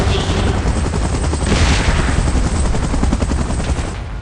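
A helicopter in the PUBG video game thunders continuously with heavy rotor chop, loud and close, joined by rapid gunfire-like bursts throughout.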